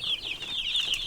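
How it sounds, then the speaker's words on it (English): A rooster on a meat-chicken farm among chicks and wood shavings gives a short series of high, close clucks lasting about a second. "Here's a rooster."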